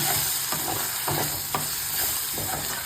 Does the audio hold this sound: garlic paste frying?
yes